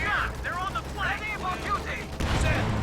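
Distant gunfire and tank shots from a Company of Heroes 2 match, with Sherman tanks, a Puma and a Panzer IV in combat, rattle under a commentator's talk, ending in a louder burst.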